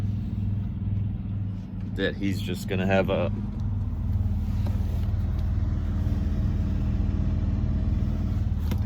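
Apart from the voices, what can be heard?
neighbor's truck engine idling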